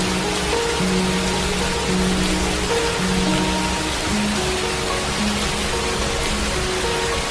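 Steady rain falls across the African savanna as a dense, even hiss of drops, constant and enveloping from start to finish with no talking.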